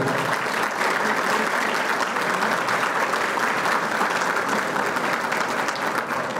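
An audience at a luncheon meeting applauds a Superior Tribunal de Justiça minister, a sustained, even wash of many hands clapping, moderately loud and without talk.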